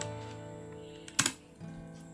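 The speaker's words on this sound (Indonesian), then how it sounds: "kita bisa mengetik dengan command pwd" A short burst of keystrokes on a computer keyboard while entering a Linux shell command, a few soft clicks followed by a sharper cluster of taps, close and clear over a low hum.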